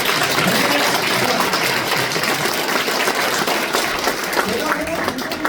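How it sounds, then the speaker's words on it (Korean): Audience applause at a Korean forum gathering, a sustained wash of clapping across the whole stretch with some voices mixed in. "큰 경례박수 한번 들고 출발합니다"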